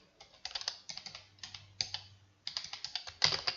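Typing on a computer keyboard, a close, clear series of quick key clicks in short uneven clusters with brief pauses between them.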